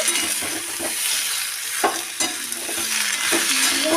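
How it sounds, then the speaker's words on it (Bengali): Mixed vegetables with tomato being stir-fried together in a pan, a loud continuous sizzle broken by scraping and tossing sounds of stirring, close up with no talk. "দিয়ে এগুলোকে একসাথে নাড়াচাড়া করে নেব"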